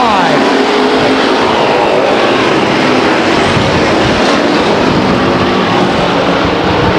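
Race cars at Stockton 99 Speedway roar past in a loud, continuous wash of engine noise, a sustained broadband drone with slight swells as the field goes by, under faint announcer speech.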